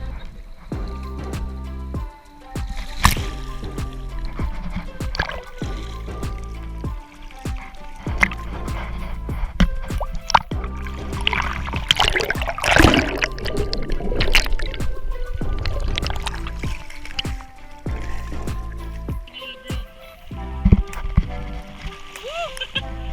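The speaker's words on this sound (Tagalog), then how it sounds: "Grabe yung alon." Sea waves wash and splash at the shore of a beach at Iba, Zambales, a continuous churning roar with bursts of surf under frequent nearby voices.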